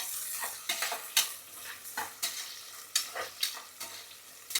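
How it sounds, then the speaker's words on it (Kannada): Onions fried for tomato bath, a bright sizzle punctuated by regular sharp scrapes of a spatula against the pan, about a dozen strokes, close and clear with no voices. "ಈರುಳ್ಳಿನ ನೀಟಾಗಿ ಚೆನ್ನಾಗಿ ಫ್ರೈ ಮಾಡೋಣ."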